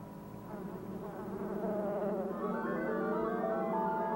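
Killer bees buzzing in a continuous droning hum, close and steady, with the pitch rising slightly as the swarm sound builds.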